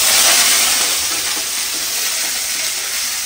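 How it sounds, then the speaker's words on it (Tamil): Mustard seeds splutter and crackle in hot oil in a home kitchen, a loud, close, dense sizzle with rapid popping that runs steadily throughout without any voices. "கடுகு பொரியுது"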